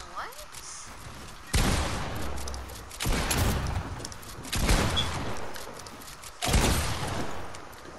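Shotgun blasts from the video game Fortnite ring out as four loud, separate booms spaced a second or two apart, with players' voices chattering underneath.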